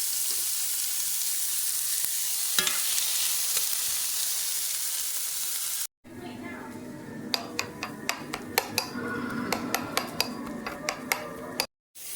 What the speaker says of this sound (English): I am making a sofrito, which is a combination of onions, a little bit of garlic, and some of my homegrown tomatoes.